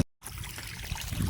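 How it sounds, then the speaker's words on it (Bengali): Floodwater from a paddy field runs out through a freshly cut gap in the earthen embankment, a steady close-up trickle and gurgle that follows a brief silence and builds slightly toward the end. "এই দেখো আমি কাঠটা কেটে দিলাম, দেখো কীভাবে জল নামছে"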